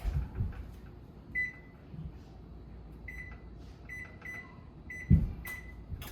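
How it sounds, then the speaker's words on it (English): Short electronic beeps chirp from a kitchen oven's control panel as it is set to preheat to 425 degrees, several separate tones spaced over a few seconds with soft household noise between. "preheat my oven to 425"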